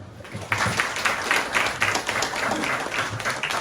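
Steady applause from a school audience of student council representatives in an indoor session, building after a brief lull into a sustained wash of many hands clapping, with faint voices mixed underneath.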